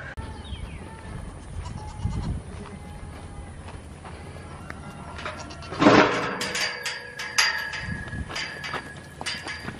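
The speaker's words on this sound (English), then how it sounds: "get the other alpines and let them out and get them up the hill and into the pasture" Alpine goats on a farm bleat repeatedly at close range, with one loud cry standing out among scattered calls, shuffling hooves and other farmyard sounds.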